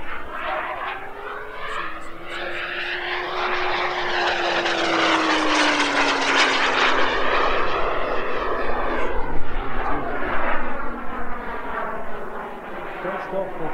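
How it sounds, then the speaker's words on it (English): An Aviation Design Diamond target drone makes a high-speed, low pass, its propeller engine buzz rising to a loud peak overhead and then sliding down in pitch as it recedes, with the whine sweeping clearly across the whole pass. "High-speed, low flyby, right here."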